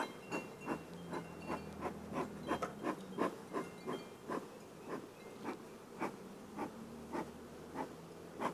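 Agitated honey bees at a hive, a close buzzing drone with a rhythmic series of rubbing or scraping strokes roughly every half second throughout.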